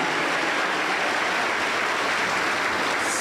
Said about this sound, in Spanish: lo recibimos con aplausos